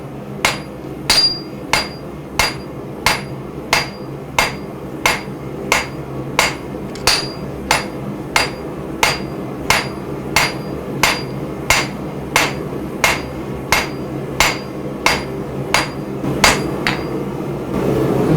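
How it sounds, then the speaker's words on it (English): Hot metal is hammered on an anvil while forging a ladle, a long run of steady, evenly spaced sharp ringing strikes, loud and close, with no talk. "Take another heat, no point hammering on the cold metal."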